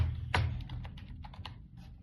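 Rapid clicking keystrokes on a computer keyboard as a vehicle number is entered, close and fairly soft over a low steady background hum.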